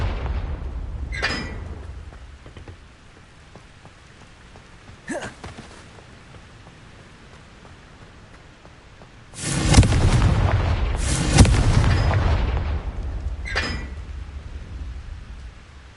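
A Confringo blasting spell goes off in Hogwarts Legacy, a booming explosive burst that roars for a couple of seconds, with scattered smaller whooshes and impacts before and after.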